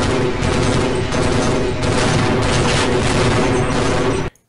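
Enemy gunfire in Half-Life, a loud, continuous rattle of rapid shots and booms that cuts off abruptly at the end.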